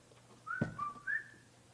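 A person whistles a short two-note phrase, a clear rising then falling tone followed by a second brief note, close and alone, with a soft bump in between.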